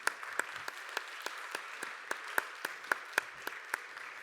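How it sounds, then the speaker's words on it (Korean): A congregation at a Korean Sunday young adults' worship service claps in unison, about fifteen sharp, evenly spaced claps in a steady brisk rhythm, moderately close and with no voices. "우리 찬양을 받으신 하나님께 다시 한번 박수하겠습니다."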